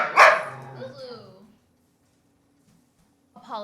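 A dog barks once loudly and close by, a sharp bark with a trailing whine, followed by silence and a faint yip at the end.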